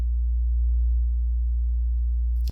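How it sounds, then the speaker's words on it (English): A steady, pure low sine-wave tone from a generator plugin in Pro Tools hums continuously and loudly, then cuts off abruptly with a brief click at the end. "just the generator of that sine wave that's causing that sound"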